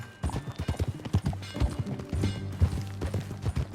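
Steady clip-clop of horse hooves, close and rhythmic, with a low rumble of movement underneath and no talking, from the video game Red Dead Redemption 2.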